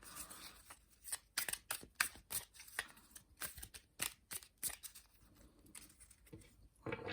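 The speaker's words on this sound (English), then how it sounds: "Just trying a little riffle just to see." Thin, small-sized Tarot de Marseille cards riffle-shuffled by hand, heard as bursts of rapid papery flutter and soft slaps at close range, repeating several times with short pauses between and no talk.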